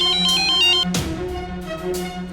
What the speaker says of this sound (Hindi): इस फोन से ना हम परेशान हो गए हैं। जब देखो बजता रहता है, चाहे दिन हो रात। ये देखो फिर बज रहा है तुम्हारे सामने भी।